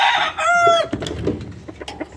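Backyard chickens cluck and squawk close by, one drawn-out rising call followed by several short, scattered clucks over about two seconds.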